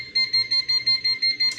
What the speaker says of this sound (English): That just closed the valve and gave an audible alarm.